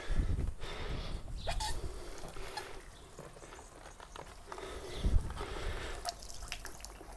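Water from a garden hose squirts through a pool vacuum in an above-ground pool, a continuous gurgling, spluttering flow with irregular drips and splashes, fairly loud and close, with no voices.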